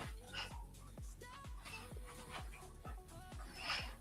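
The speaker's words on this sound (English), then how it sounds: "Yeah, there's a dog in my house." A dog inside a house whimpers and yips in a quick, steady series of short, fairly faint cries, roughly two per second, with occasional sharper bark-like bursts.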